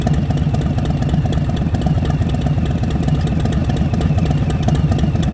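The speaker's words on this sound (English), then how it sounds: "It shakes at idle, the motor pounding away with a canter that's just imperfect enough that it feels organic." A Harley-Davidson Low Rider S with its 114 V-twin sits idling, a steady, loping low-pitched pounding with a slightly uneven beat, close and loud throughout before cutting off at the end.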